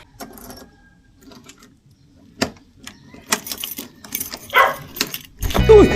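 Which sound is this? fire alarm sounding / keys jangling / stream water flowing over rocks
keys jangling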